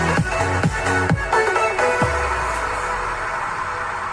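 Music plays through speakers from a tube amplifier with boosted bass, heavy thumping bass notes that drop in pitch, a few strong hits early on, then a fuller steady mix.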